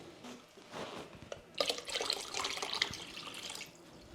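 Water runs and splashes into a lidded pot as liquid is added for a frankincense oil extraction, a steady close-up flow that swells louder partway through, with no talking.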